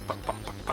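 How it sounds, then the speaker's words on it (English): A cartoon chicken in the Looney Tunes Space Race video game clucks in three short, evenly spaced bursts over a faint steady hum. "Oh no, a chicken's gonna knock me off the putt-putt course today"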